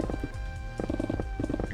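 A monkey's fart sound effect from the Monster Hunter video game: a wet, bubbly, rumbling blurt with a few sputtering pulses over about two seconds, loud and close, no voices.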